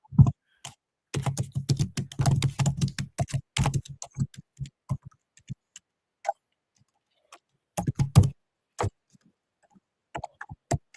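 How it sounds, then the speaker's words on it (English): Bursts of clicky keyboard typing, close and quiet, in irregular runs separated by pauses. "I can hear the typing."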